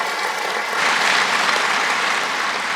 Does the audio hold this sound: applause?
yes